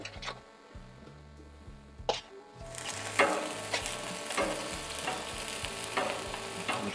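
Onions and mushrooms hit oil on a Blackstone griddle, a quiet start with a couple of sharp taps giving way to a sustained crackling sizzle dotted with spatula clicks, fairly faint overall.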